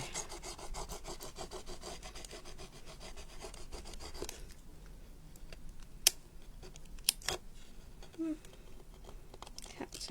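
Dry rasping rubs as tissue paper is pressed down along the edge of a customised decoupage box, steady repeated strokes close up for the first few seconds, then sparser scuffs and a few sharp clicks, with a voice speaking over it.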